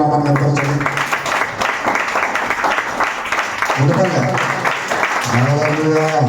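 A church congregation at a thanksgiving gathering claps steadily and loudly, the dense patter running under a prominent voice that speaks or sings over it throughout.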